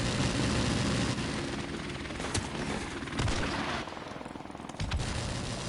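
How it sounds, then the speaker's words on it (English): An enemy helicopter in Call of Duty: Modern Warfare Remastered roars loudly and steadily throughout, mixed with bursts of gunfire and explosion-like thumps from online multiplayer combat. "Enemy helicopter."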